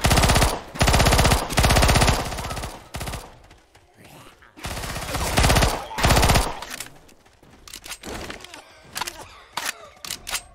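Repeated bursts of loud automatic gunfire in the Left 4 Dead 2 video game, several long sprays separated by short pauses, followed by scattered quieter shots and clatter.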